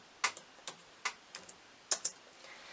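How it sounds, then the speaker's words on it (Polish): Typing on a computer keyboard during a beginner computer lesson, a handful of quiet, irregular key clicks close by in a hushed room. "Zatem wpisujemy Gdynia."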